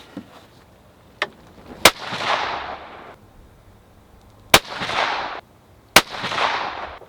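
Rifle shots fired through an EC Tuner muzzle brake crack sharply at a range, with three loud reports spaced several seconds apart, each followed by a rolling echo, plus a fainter snap early on.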